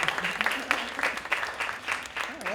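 Applause from an audience at a cabaret show in a players club, moderate clapping that swells and ebbs in waves, with a voice briefly heard over it toward the end.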